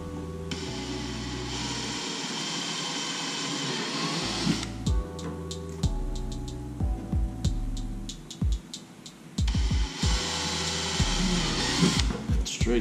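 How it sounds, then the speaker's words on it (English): A power drill drilling through plastic whirs in several bursts, starting and stopping with short pulses and pauses between runs, close by with no talking. "now I'm gonna take the drill before I lock these down completely"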